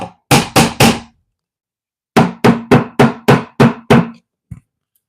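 Sharp metallic hammer strikes on a nail set into wood of an MCM drawer, first three quick blows, a pause, then a steady run of seven, ending with a faint tap.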